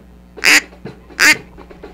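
A duck call blown to imitate a duck, giving two loud, close, nasal quacks about three quarters of a second apart, with faint room noise between them.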